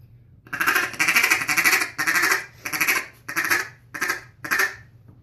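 Duck Commander duck call blown in a feeding call, a run of about seven raspy quacking bursts, loud and close, with short gaps between them and no talk.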